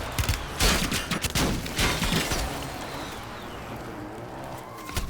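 Rapid bursts of gunfire from a battle royale duos match, several sharp volleys clustered in the first half, then fading into quieter in-game ambience.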